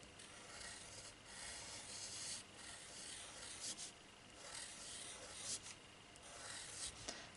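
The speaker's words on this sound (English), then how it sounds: "Try to rub that out as much as you can." Eraser scrubbing pencil lettering off paper, a close, continuous dry rubbing with quick back-and-forth strokes and small bursts, no voices.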